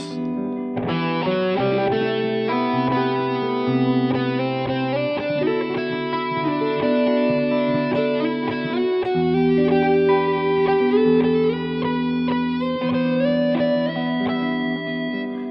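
An effected electric guitar runs a long ascending and descending pentatonic scale pattern across the fretboard, notes flowing steadily and ringing with a touch of reverb, no voices.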